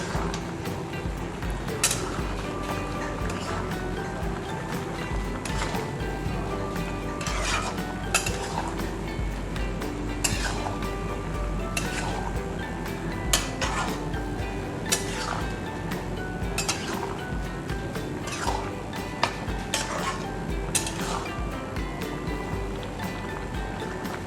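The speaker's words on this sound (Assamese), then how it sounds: "তাৰপিছত এইখিনি ভালদৰে লৰাই দিব" Stirring kola kosu (taro) with tomato in a cooking pot for an Assamese recipe, a quick irregular series of metallic clinks and scrapes of spoon against pan, close and fairly loud, with no talking.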